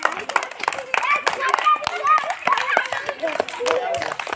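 Clapping from schoolchildren playing a fun activity at school, irregular hand claps punctuating overlapping children's voices and calls nearby.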